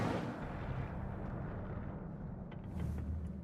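Incendio fire spell cast in the Hogwarts Legacy video game: a sustained roaring, rumbling burst of flame that holds steady for several seconds, loud and close, with faint crackles near the end.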